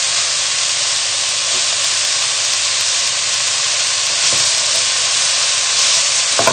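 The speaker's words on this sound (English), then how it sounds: "So just keep moving the onions around the pan just so that nothing sticks and nothing burns." Four sliced red onions frying in a pan for chutney, a loud continuous hiss and sizzle as they are stirred, with occasional faint scrapes.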